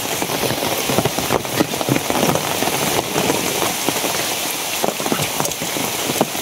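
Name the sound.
rain falling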